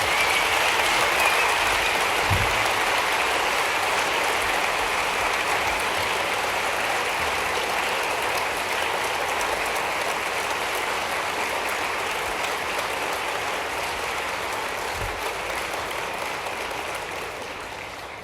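Sustained applause from a debate audience, an even, dense wash of clapping that holds steady for many seconds before tapering slightly at the close.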